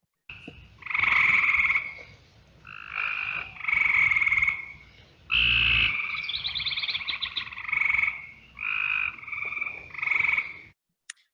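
A recorded chorus of Cope's gray tree frog and eastern gray treefrog calls plays back, loud buzzy trills repeating in bursts with short gaps, one caller sounding very close to the microphone.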